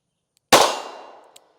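A single sharp, loud revolver shot from a Smith & Wesson 317, fired outdoors, with a quick decaying ring afterward and a faint small click near the end.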